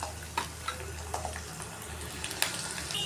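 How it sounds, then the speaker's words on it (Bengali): Peeled garlic frying in a pan gives a faint, steady crackling sizzle with a few small pops, close by and without voices. "এরপর আমি ছাড়ানো রসুনগুলো দিয়ে দিলাম, এটাও একটু ফ্রাই করে উঠিয়ে নেব"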